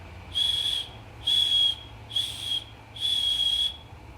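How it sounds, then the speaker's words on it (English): A shrill emergency whistle from a first aid kit is blown four times in short bursts, loud and close, with brief pauses between blasts. "and you also have a whistle"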